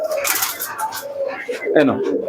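Pigeons in a small pigeon shop coo and rustle close by, with a soft bird call near the end, under steady nearby conversation between buyer and seller.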